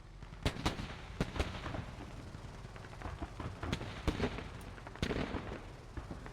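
Gunfire in the military shooter game Squad, a scattering of sharp distant shots and thuds spaced irregularly over a low rumbling background, fairly quiet, no talking.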